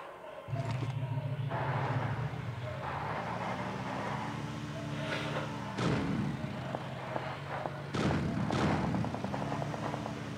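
Gunfire and engine rumble in a battle-royale shooter as a player drives a vehicle toward the safe circle, with a steady motor drone under repeated sharp distant shots and thumps, no talk.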